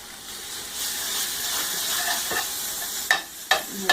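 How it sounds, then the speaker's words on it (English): Butter melting in a hot pan with browned ground elk, a steady loud sizzle and hiss with stirring, ending in a few sharp scrapes of a utensil against the pan. "What I'm going to do is add some butter and melt it and use a little bit of flour to make a little bit of a roux."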